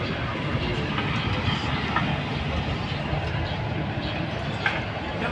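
Okha–Rajkot–Porbandar train rumbling past at a railway junction, a steady dense roar of wheels on rails filling the whole stretch at close range.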